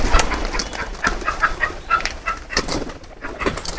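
Pigeons coo repeatedly while feeding on scattered corn, the soft burbling calls close by and overlapping in an uneven rhythm, with small pecking and shuffling sounds between them.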